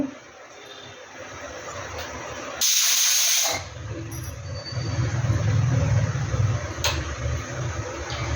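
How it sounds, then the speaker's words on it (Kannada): A pressure cooker on the stove, cooking mung beans, lets out one short sharp hissing whistle of steam, loud and close, followed by a lower rumbling hiss. "ನೋಡಿ, ಈಗ ಒಂದು ವಿಷಿಲು ಕುಕ್ಕರ್ ಕೂಗಿದೆ."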